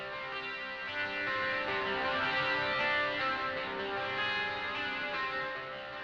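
Soloed Stratocaster electric guitar with overdrive, held distorted chords ringing dense and sustained, steady and loud throughout with no talking.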